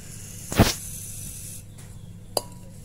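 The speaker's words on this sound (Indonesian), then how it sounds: "Ini piringnya kita semprot dulu." Two short bursts of aerosol spray cleaner onto a stuck throttle plate of a Suzuki Swift, a longer hiss followed by a brief quick puff, over a low steady hum.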